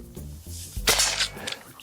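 Byrna HD less-lethal launcher fired at a target outdoors: one sharp, close pop lands midway, preceded by low handling noise and followed by a brief fading tail.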